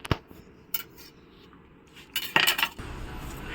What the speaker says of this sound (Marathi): बटाटा कापणार आहोत आता आणि कांदा पण कापणार आहोत.